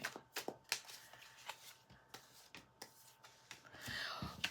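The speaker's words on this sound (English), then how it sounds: "Give a couple more shuffles." Tarot cards being shuffled by hand, quiet riffles and soft slaps repeating in irregular bursts, close and faint, ending in a longer swishing riffle.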